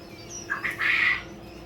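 Newly hatched chicks, the first hatch of the season from a CT180 incubator, give a few short, high peeps and chirps while being moved, over a faint steady background hum.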